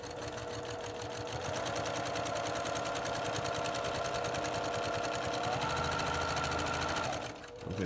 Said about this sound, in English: We're gonna put a couple stitches in, and then we're gonna reverse it, the lock stitch here.